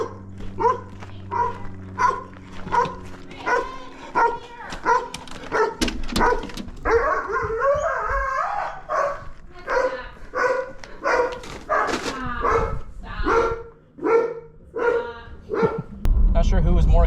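Several dogs bark excitedly at a food delivery in a rapid, overlapping burst of loud yips and barks nearby, with a little whimpering and a person talking over the noise.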